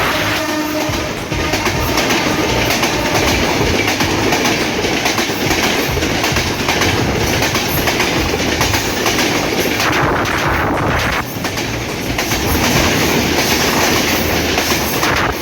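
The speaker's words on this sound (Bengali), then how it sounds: "অত্যন্ত দ্রুতগতি সম্পন্ন এই পঞ্চগড় এক্সপ্রেস ট্রেনটি" Dhaka-bound 794 Down Panchagarh Express, hauled by an 8-series locomotive, roars through the Akkelpur railway gate at high speed: loud, close wheel clatter and rumble with horn blasts, sustained throughout and no talk.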